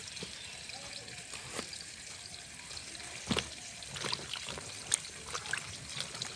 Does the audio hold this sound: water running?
yes